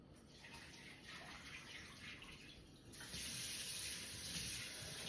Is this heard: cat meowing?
no